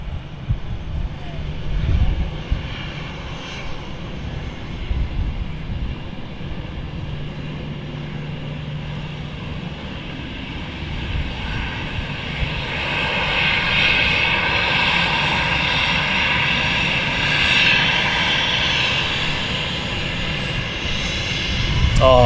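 An EasyJet A320 airliner taxis past at Manchester Airport, its jet engine whine building from a low hum into a louder, sustained roar, with wind buffeting the microphone.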